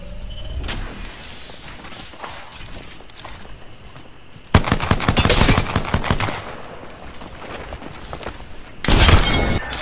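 Gunfire in a shooter video game, with scattered shots and then two loud, dense bursts of rapid automatic fire, close and dominant, set against background game noise.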